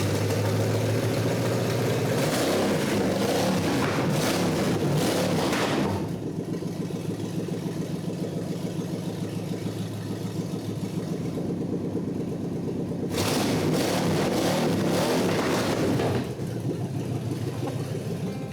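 A 1948 Packard engine idles steadily and close, a low rumbling drone with a couple of brief rises in revs, heard alone without talk.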